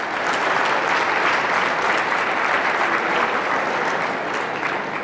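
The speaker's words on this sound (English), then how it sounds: "Sometimes the claps help." Spectators at the 2019 Mane Event horse trainers challenge clap in a steady, dense round of applause filling the arena for about five seconds, with no talking over it.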